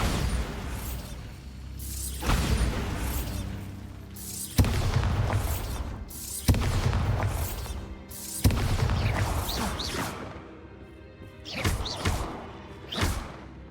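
A Bombarda blasting spell from a magic video game goes off in a string of heavy booming blasts, roughly six loud crashing impacts spaced a second or two apart, each trailing into rumbling debris.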